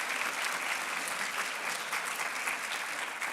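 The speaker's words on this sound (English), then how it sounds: "let's have a round of applause for the parents" An audience at a convocation ceremony applauds the parents, a dense, steady wash of many hands clapping that fills the room without a break.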